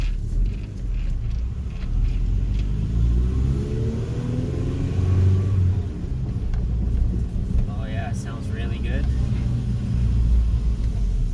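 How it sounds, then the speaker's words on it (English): A car with a Honda D16Y8 engine and a new header drives along with a steady low rumble. The engine rises briefly as it accelerates, then settles, and a person talks throughout. "it's time to go for a test drive, just to test drive out how the new header and the new adjustments on the engine"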